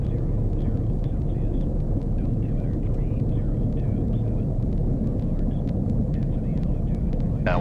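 A small airplane's engine drones steadily and loudly just after touchdown, with power pulled back and the plane rolling on the ground, a constant low rumble filling the whole stretch.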